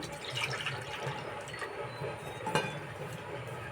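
Half a litre of cow's milk poured from a bowl into a kadai for malpua, a soft steady liquid pour with light clinks of metal, fairly quiet and close, with no one talking.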